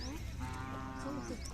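A cow moos at a Khillar cattle market fair in Malshiras, Solapur, giving a single drawn-out low call that sits at close range over a busy background.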